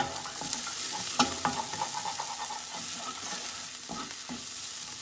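Tomato masala for a Goan fried kingfish curry stirred and fried in a pan, a continuous close sizzle with light spoon scrapes and a few clicks, no speech.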